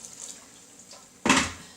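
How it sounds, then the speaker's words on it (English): Hot water from a kettle splashes into a pan of passata in a home kitchen: a quiet lead-in, then a sudden short, loud pouring gush near the end. "I'm going to top up with water from the kettle"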